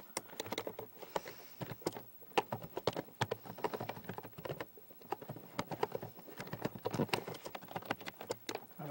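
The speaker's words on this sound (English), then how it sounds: "I'm using my keyboard here." Rapid, uneven tapping on a computer keyboard, close and soft, with dense bursts of keystrokes and short gaps.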